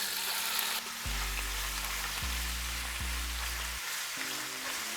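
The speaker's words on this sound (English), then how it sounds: "I'm gonna use some of that same oil to cook the meat. Now I'm gonna add the meat." Carne ranchera searing in hot oil in a pan, a loud, steady sizzle with crackling spatter throughout, alone with no talking.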